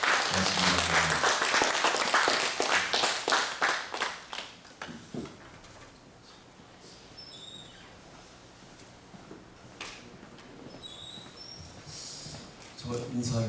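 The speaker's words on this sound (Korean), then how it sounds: "우리 간증단님께 다시 한번 큰 박수 보내드리도록 하겠습니다" An audience at a Father School session in a hall gives loud applause for the people who shared testimonies. The clapping lasts about five seconds and then fades into a quiet room with a few scattered small noises.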